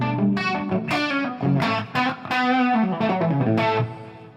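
An electric guitar runs through a Fractal ambient pitch effect with three tuned voices spread in stereo. It plays a string of sustained, shimmering chords with layered harmonies, strongly distorted and thick, with no voices.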